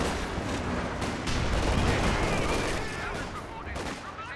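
A Company of Heroes 2 battle rages with dense overlapping rifle and machine-gun fire and grenade blasts, a constant busy din of combat at moderate level throughout.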